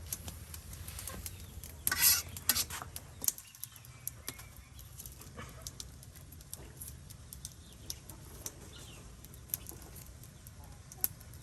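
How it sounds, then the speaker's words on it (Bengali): Drumstick leaves cooking in a pan over a stove, stirred with soft scraping and rustling under a low steady sizzle, with a louder flurry of stirring near the start. "শাক চুলাই দেওয়া হয়েছে এখন এটা লড়াই দেওয়া হইতেছে যাতে তাড়াতাড়ি সিদ্ধ হয়"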